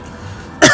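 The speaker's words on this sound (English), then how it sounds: "That cough means that it's good." One sharp cough bursts out after a quiet pause near a person eating homemade mac and cheese, brief and close.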